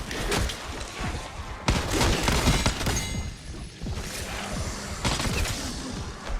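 Sustained, rapid gunfire from a weapon in Black Ops 6 Zombies, a loud continuous rattle of close shots with brief pauses between bursts and no talking.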